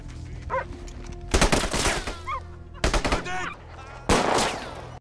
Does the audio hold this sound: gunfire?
yes